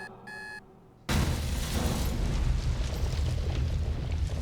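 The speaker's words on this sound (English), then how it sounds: "Explosion." A loud, sustained explosion roars in the adventure game The Raven, bursting in suddenly after a short electronic beeping tone and then rumbling on as a dense, heavy blast for several seconds.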